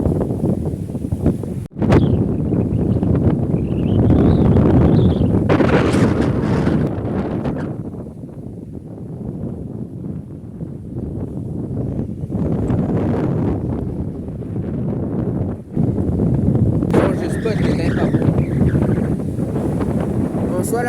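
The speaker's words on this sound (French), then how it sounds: "il a beaucoup trop de vent" Strong coastal wind at a fishing spot buffets the microphone in a steady roar with gusts, while voices talk faintly underneath.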